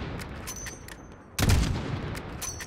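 A loud, sudden explosion boom in a Call of Duty: Modern Warfare battle erupts midway, with a rumbling tail and sharp scattered gunshot cracks before and after it.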